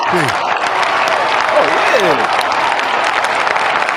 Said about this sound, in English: We need applause for this. I need you to hit the applause.